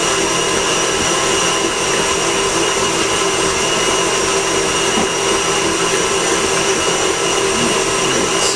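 An electric mixer whirs steadily through cookie dough in a home kitchen, a loud, continuous motor drone with no talk over it.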